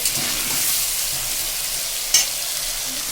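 Continuous sizzling of potatoes frying in a pan with soft scraping as they are stirred, and one sharper clatter of utensil against the pan.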